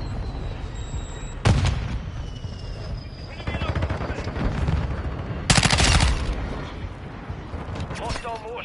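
A teammate's gunfire in the video game Call of Duty, with two sharp loud bursts of shots rising over a rumbling background of combat noise, spaced a few seconds apart.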